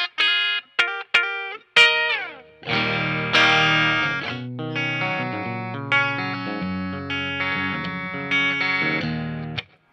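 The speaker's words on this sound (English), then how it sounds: "when you switch over to the bridge, it's a really bitey sound." A 2021 PRS Silver Sky electric guitar on its bridge pickup plays a few bright, plucked single notes, then strummed chords with a sharp, trebly twang that ring out and sustain, loud and close.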